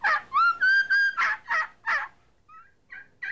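A turkey gobbles in a fast series of loud, close, warbling calls, then a few shorter, fainter gobbles follow, with no other sounds around them.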